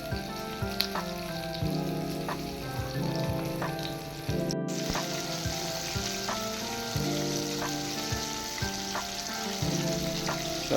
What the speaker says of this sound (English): we're going to fry our chicken for 2 minutes each side